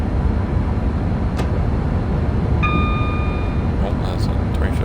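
A Class 390 Pendolino train braking, a heavy continuous rumble with a brief high squeal of brakes partway through, loud and close from inside the train.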